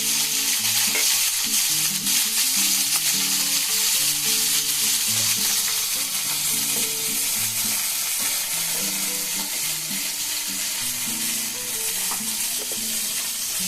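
Chopped onions fry in oil with dry red chilli and nigella seeds, giving a loud, continuous close sizzle, and a spoon scrapes the pan in a steady rhythm throughout.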